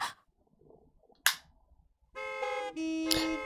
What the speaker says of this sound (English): The honking continued.